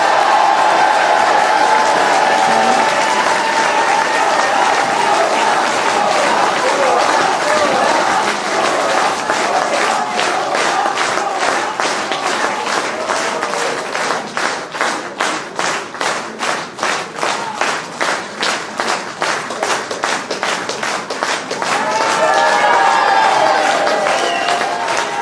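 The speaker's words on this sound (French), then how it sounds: "Un tonnerre d'applaudissements pour Monsieur Gilbert Collin" A crowd at a Reconquête political rally in Montescot gives sustained applause, dense clapping that settles into a rhythmic unison beat before swelling again, with cheers and voices mixed in.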